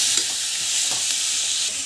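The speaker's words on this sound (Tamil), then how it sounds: "ஸோ போட்டு நல்லா வந்து வதக்கணும், நல்லா வதக்கணும், நல்லா வதக்கணும்." Tomatoes sautéing in a pan give a steady, close sizzle with soft stirring scrapes throughout, and no voices are heard.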